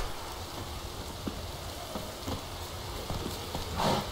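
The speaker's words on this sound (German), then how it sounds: "es regnet schon" Soft, steady video game rainfall in The Witcher 3 patters continuously at a moderate distance, with occasional faint taps and a brief swell near the end.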